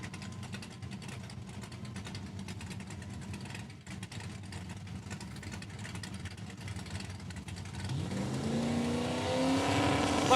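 Drag cars, a 2002 Mustang and a 1963 Pontiac, stage at Saskatchewan International Raceway: a low, rumbling idle holds steady, then the engines swell into a louder, rising rev near the end.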